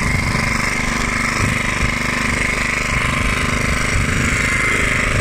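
A 1976 Hayterette rotary lawnmower with a 3.5 horsepower engine runs close and loud while mowing, a steady rattling drone that holds unbroken throughout.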